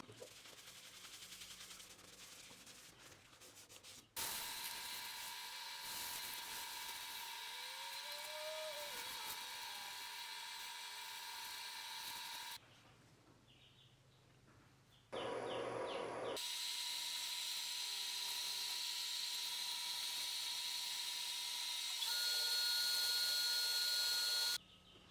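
Wood lathe spinning a thin-walled apple wood vase while Yorkshire grit abrasive is pressed against it, a loud steady hum and hiss that cuts in and out in long stretches, close up with no talking.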